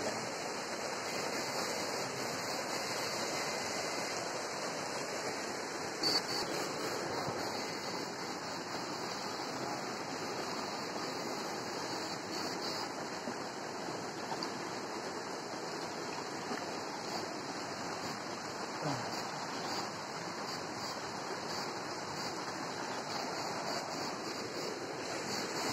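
River water flowing steadily near a bridge, a broad continuous rushing wash that stays even and moderately loud throughout, with a faint thin whine above it and no talk.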